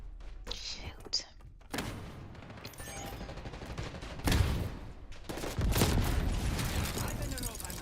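Gunfire in the video game Call of Duty Black Ops 6 multiplayer, with bursts and rattling shots over a dense, noisy game mix. Quiet voice murmurs sit underneath.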